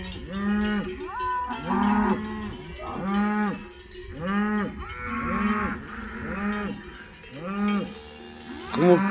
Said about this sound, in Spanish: Esa es buena vaca, ¿verdad, Jesús?